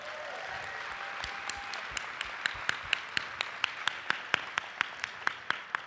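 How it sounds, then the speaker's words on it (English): Applause fills a theatre at a graduation ceremony, a broad wash of clapping from the audience with a few sharp, rhythmic claps standing out nearby, moderately loud throughout. "So give them a round of applause."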